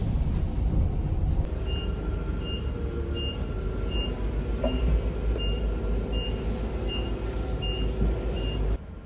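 A forklift reverses at a delivery stop with a truck and trailer, giving a steady series of evenly spaced high reversing beeps over a loud idling diesel rumble.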